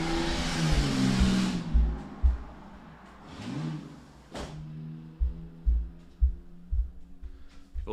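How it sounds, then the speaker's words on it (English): Cars passing fast outside, first a loud roaring drive-by with tire noise that fades, then a rising engine whoosh and a string of sharp revving bursts at moderate distance. "People love to drive their cars real fast."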